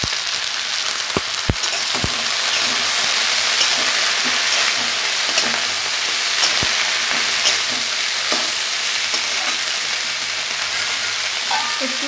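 Steady, loud sizzling of beets, carrots, potatoes and onion greens frying in a pan with tempered spices, salt and turmeric, with occasional clinks of stirring throughout.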